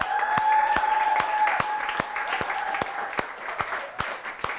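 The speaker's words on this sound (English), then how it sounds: "a big, big round of applause for Dirk and Audrey" An audience at a coding bootcamp demo day in Bali claps, a full, lively burst of many hands with a few sharper individual claps popping out, while a faint sustained tone runs underneath and the applause slowly thins.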